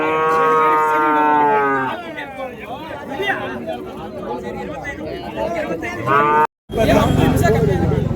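Loud, drawn-out cattle moos up close, one after another, at a busy livestock market, over a steady murmur of crowd chatter and other animals.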